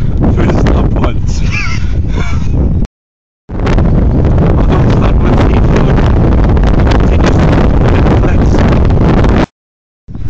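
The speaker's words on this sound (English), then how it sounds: "It's really fucking windy." Loud, roaring wind buffets the microphone in heavy continuous gusts, cutting out briefly twice.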